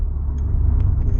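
A Mazda RX-7 FD3S rotary engine idles with a low, steady rumble, smooth and fairly quiet, with no revving.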